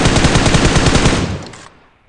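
Loud, close burst of rapid automatic gunfire in the PUBG video game, roughly a dozen quick shots in a steady rhythm that cut off and fade into silence.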